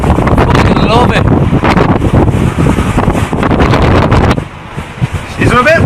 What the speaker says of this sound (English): It's a bit windy, Alex.